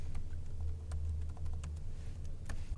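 Computer keystrokes tapped out while entering a subnet mask during a router configuration, a quick run of light clicks over a low steady hum, close and fairly quiet.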